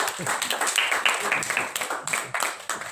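An audience at an HP learning event claps for an introduced guest, a short burst of sharp, uneven claps from a modest crowd with a voice partly audible beneath.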